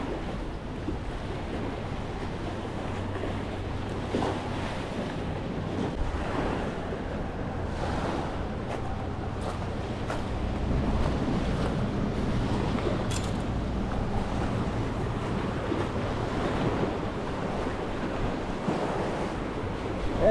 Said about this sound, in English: I don't think I can really get my line tight too well with the wind coming straight at me and the waves pulling it this way